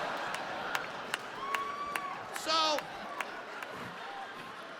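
At a stand-up comedy show, a single audience member claps in slow, evenly spaced claps that stand out sharply against quiet room noise, while a voice speaks briefly.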